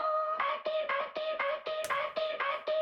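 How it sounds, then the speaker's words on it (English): A high-pitched synth layer, the same pop track part shifted up an octave, plays alone as a steady rhythmic pattern of repeated bright notes with short gaps, loud and close. "I added this high pitch layer, which is basically just the same thing, the same track, just pitched up 12 semitones,"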